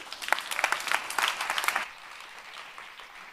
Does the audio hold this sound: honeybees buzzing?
no